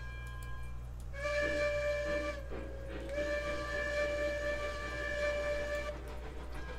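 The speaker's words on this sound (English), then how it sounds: "Using up all our steam on the whistle instead of getting up the hill" A steam locomotive whistle in the train game Railroads Online blows in two long, steady harmonic blasts over a constant low engine rumble, close and loud, with a brief gap between them.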